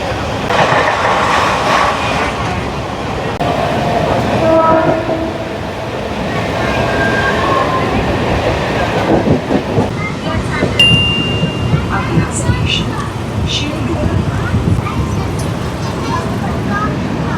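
Mumbai local train running on the stretch between Vangani and Shelu, a steady onboard rumble and rattle of the carriage, with voices chattering over it and brief higher squeals toward the end.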